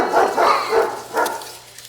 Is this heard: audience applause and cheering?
no